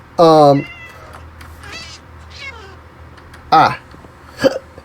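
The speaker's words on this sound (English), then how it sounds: "Cat on the sweet berries." A cat in the Minecraft video game meows several times in short, clear, close calls, with quieter game sounds between them.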